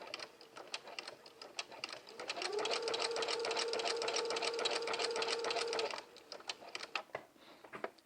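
A sewing machine runs a long basting stitch while a jumpsuit is sewn. It hums steadily for a few seconds with a fast, even needle rhythm, and faint ticks and handling sounds come before and after.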